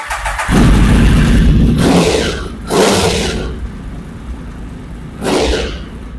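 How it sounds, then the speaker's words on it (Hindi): A Triumph Speed Triple's 1050cc engine revs up several times, rising and falling in loud bursts over a steady idle, close by with no voices. "सो अब आ जाती है हमारी प्राइम की स्पीड ट्रिपल, 1050 सीसी का इंजन है।"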